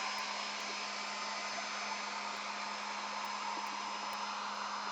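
A hair dryer running on its cool setting blows a steady, even whoosh with a constant motor hum underneath, close by and uninterrupted, with no voices.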